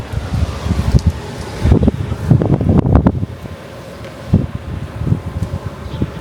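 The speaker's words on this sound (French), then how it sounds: "Et d'ailleurs, il y a aussi beaucoup de vent." Strong autumn wind outdoors buffeting the microphone, a loud rumbling roar that swells and dips in gusts, with rustling over it and no voices.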